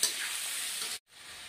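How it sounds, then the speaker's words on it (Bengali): Potatoes fry with turmeric powder in a hot pan, giving a steady, loud, close sizzle that drops out for a brief moment before resuming. "হাফ চামচের কম হলুদের গুঁড়ো দিয়ে দিলাম, দিয়ে আলুগুলি আমি 1 মিনিটের মতো ভেজে নেব।"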